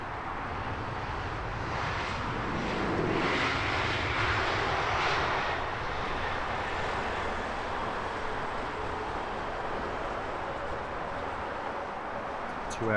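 A passenger jet landing at Heathrow Airport roars past, its engine noise swelling to a broad rumbling whoosh, then receding into a long steady drone, with a voice talking over it.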